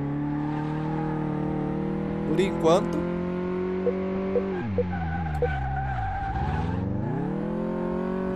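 A car skids and drifts in Car Mechanic Simulator 2018, its engine droning with sweeping pitch dives and bursts of tire squeal, while someone talks over it throughout.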